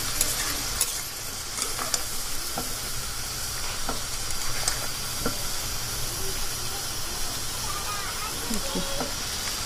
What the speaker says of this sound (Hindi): तो ये देखिए फ्रेंड हमारा जो यहाँ पे मटन है उस देखिए बहुत अच्छा से ये भुंजा रहा है